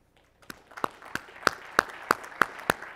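A few people in a conference keynote audience clap in a sparse, slow rhythm, roughly eight distinct claps spaced about a third of a second apart, fairly faint and without speech.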